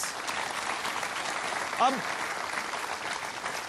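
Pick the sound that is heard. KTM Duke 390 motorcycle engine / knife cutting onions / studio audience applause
studio audience applause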